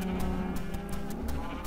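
Sheep in the video game Minecraft bleat in a quick run of short, wavering calls, up close and loud with no talk over them.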